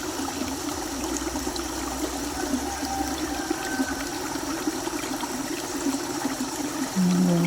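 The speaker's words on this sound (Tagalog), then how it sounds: "may tubig naman dyan na dumadaloy" Steady, continuous rushing of a river flowing nearby, beside bamboo and trees, constant in level throughout with no voices.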